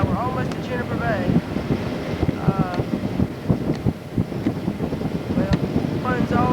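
A small boat runs at full throttle out of Highland Canal toward Juniper Bay, with a steady engine drone under heavy wind buffeting and splashing water, and voices talk over it.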